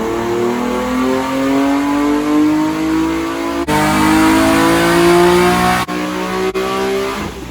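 A BMW E36 M3 fitted with an S54 engine revs hard on a dyno, its pitch climbing in sustained pulls broken by sharp cuts between runs, loud and close.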